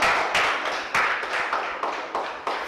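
A few people clap in a short, sparse burst of applause for a contestant after a correct answer in a timed maths quiz, with irregular hand claps and no voices.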